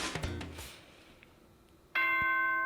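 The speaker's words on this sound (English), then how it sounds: "Ding dong bing bong." A short electronic chime jingle from the video game Danganronpa, a clear bright tonal ding-dong that starts abruptly after a quiet pause and rings out loud with sustained bell-like tones.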